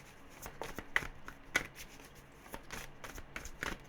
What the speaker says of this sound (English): I am shuffling the decks as best I can